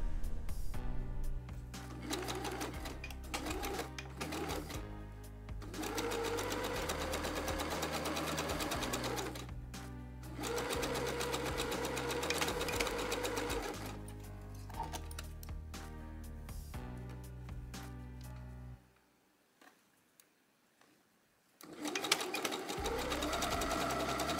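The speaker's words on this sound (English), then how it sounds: "So I will sew the shoulder seams here, and then we will come back to set in the sleeves." A sewing machine runs in quick, loud bursts as it stitches the shoulder seams of a T-shirt, stopping and restarting several times with a long pause near the end.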